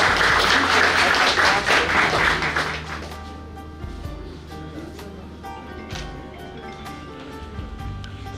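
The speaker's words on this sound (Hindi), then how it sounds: "कंप्यूटर पॉइंट भैया के लिए एक बार जोरदार तालियां" A crowd at a business partners meet in Varanasi claps loudly for about three seconds, then the applause dies away into a quieter room with scattered sounds.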